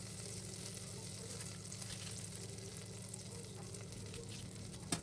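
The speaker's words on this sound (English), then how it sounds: "In a deep pot, add some butter and wait until it melts nicely." Butter melts in a deep pot with a faint, steady sizzle and soft crackle that holds evenly throughout. A small click comes at the very end, and no one speaks.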